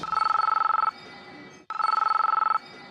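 A telephone rings in two bursts, each a rapid electronic warble lasting about a second, separated by a short pause; clear and close, with no voices.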